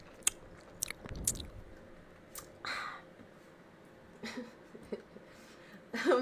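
Chewing and biting on fried chicken fries up close in an ASMR eating setting, with several crisp bites scattered over a few seconds and soft mouth sounds between them.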